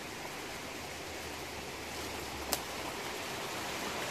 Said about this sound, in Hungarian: Vízesések zúgnak, patakok folynak.